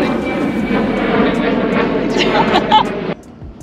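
An airplane engine roars steadily overhead, loud and constant, then cuts off abruptly near the end, leaving near silence.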